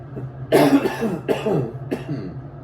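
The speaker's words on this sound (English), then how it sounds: "I got this irritating cough." Three separate coughs, close and fairly loud, spaced about a second apart over a low steady background hum.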